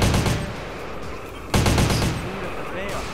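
AK-47 automatic fire in GTA San Andreas, two close sustained bursts with a short break between them and light game ambience underneath.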